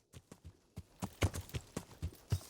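Horse hooves clip-clop at an irregular walking pace in Kingdom Come: Deliverance, about ten distinct thuds over a couple of seconds, moderately close and clear with no talking over them.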